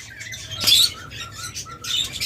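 Pair of lovebirds giving short high chirps and squeaky calls, a few bursts close by over a faint background hum, no talk.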